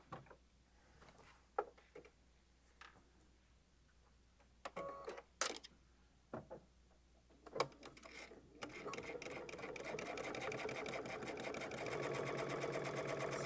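A sewing machine with a walking foot stitches on a messenger bag, first in scattered faint clicks and short bursts, then settling into a steady, continuous whirring run.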